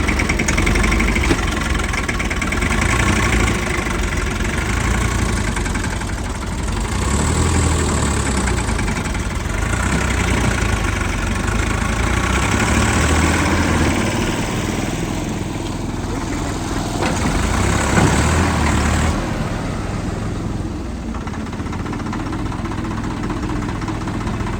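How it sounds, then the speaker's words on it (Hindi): A large, extra-powerful tractor built for hilly construction work runs its diesel engine nearby, a loud, continuous rumbling chug that rises and falls slightly, with no talking. "अब सौरभ आ गया अपना और वो बड़े वाला ट्रैक्टर लेके आ गया।"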